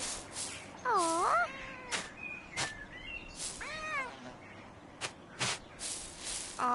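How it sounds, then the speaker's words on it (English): Cat meows sound in short bursts from a petted kitty in the medieval video game Pentiment: several rising and falling calls among sharp, brief clicks and swishes, fairly faint overall. "Aw, we got to pet a kitty."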